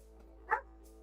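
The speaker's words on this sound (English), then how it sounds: "sorry about the dogs barking in the background" A single short dog bark or yip, faint and somewhat distant in the background of a quiet room, with a steady low hum underneath.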